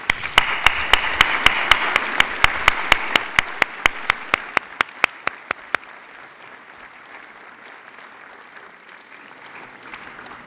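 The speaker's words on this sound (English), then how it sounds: "we'd like to give you a warm round of applause for your work and your dedication." A gala award audience gives staff a round of applause, a dense wash of clapping with strong rhythmic unison claps near the microphone that fade out after about six seconds, leaving a quiet room.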